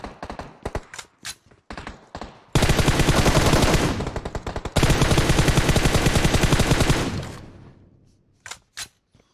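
Automatic gunfire from a PUBG Mobile match on the Erangel map: a few scattered single shots, then two long, loud sustained bursts of rapid fire, then a couple of isolated shots as it tails off.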